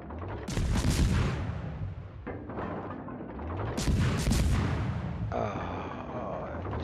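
Naval gunfire in a warship video game, two heavy booming salvos several seconds apart with rumbling decay, followed by a sustained tonal engine-like hum.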